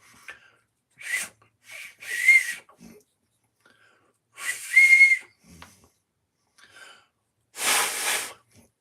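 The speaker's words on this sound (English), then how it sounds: "this is the whistle that we've done" A hand-carved wooden whistle made with a glued-in dowel, blown in several separate breathy, shrill bursts with pauses between, loud and close, the last blast the longest.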